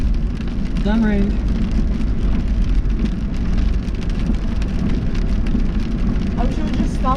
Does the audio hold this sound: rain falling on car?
yes